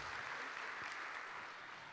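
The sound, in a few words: audience applause for meetup organizers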